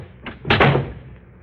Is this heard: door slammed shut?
yes